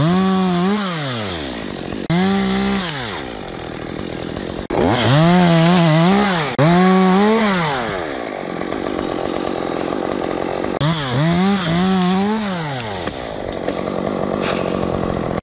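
A chainsaw cuts into a tree during a felling job, its engine revving up and down in repeated loud surges with rising and falling pitch, pausing briefly between bursts; close and dominant throughout.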